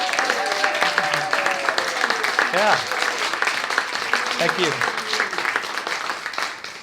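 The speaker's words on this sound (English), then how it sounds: "Can we give him a round of applause?" Audience applause at a poetry and reading event, steady clapping filling the room throughout, with a voice speaking briefly over it.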